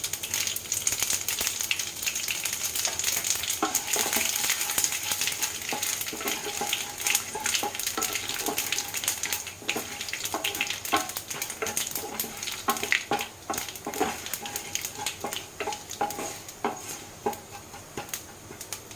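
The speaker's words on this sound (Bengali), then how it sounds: "এক চামচ তেল দিয়ে কিছু ফোড়ন দেব প্রথমে দেবো গোটা জিরে কালো জিরে আর দেব মৌরি" Whole cumin, nigella and fennel seeds frying in a spoonful of hot oil, a dense close crackle of rapid popping and spitting that carries on for the whole stretch without any voice.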